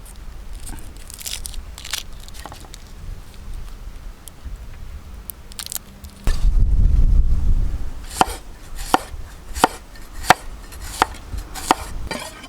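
Onions are chopped on a board for a Kerala-style fish pollichathu masala: a run of quick knife taps early on, then a low thud and a string of sharp, evenly spaced chops, close and distinct.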